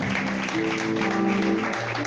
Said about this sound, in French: il faut encore applaudir pour le berger. Encore plus fort, s'il vous plaît.